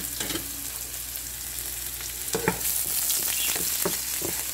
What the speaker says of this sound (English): I'll have to start sautéing my garlic here into my cooking pot until my garlic will become slightly golden brown